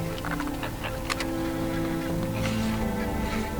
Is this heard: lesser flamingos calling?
yes